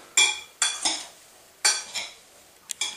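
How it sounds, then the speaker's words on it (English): A spoon stirs an apple pie filling with dried cranberries in a bowl, making five or six short, crisp scraping strokes in quick bursts with brief pauses between them, close and fairly loud. "One last quick stir."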